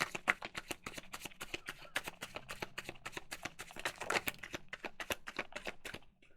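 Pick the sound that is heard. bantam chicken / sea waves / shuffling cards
shuffling cards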